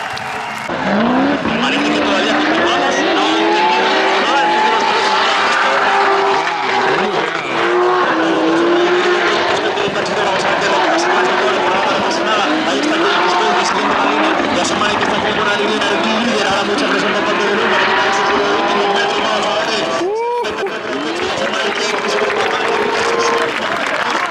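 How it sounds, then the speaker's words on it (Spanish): BMW drift cars at a Drift Masters GP event skid through a corner with loud, sustained tire squeal and engine roar, and a sharp burst near the end, all under continuous excited race commentary. "now Benet goes for that snappy dive, looks for the door of the BMW"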